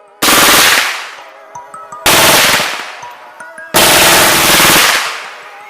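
A miniature gun chambered for .22 LR fires three loud, sharp bursts close up, each rapid volley cutting off abruptly and leaving a brief ringing decay before the next.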